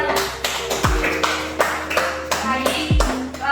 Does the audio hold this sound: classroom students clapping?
yes